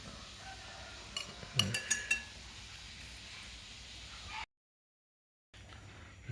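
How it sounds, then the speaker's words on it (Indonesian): A spoon stirs cat medicine mixed with water, giving a few light, quick clinks against the container. The clinks are faint and close, followed by a brief silence. "Aduk dulu."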